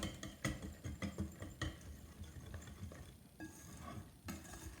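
Heavy cream and powdered sugar are whisked in a bowl, making a quiet run of quick, rhythmic tapping and swishing strokes close by with no voices.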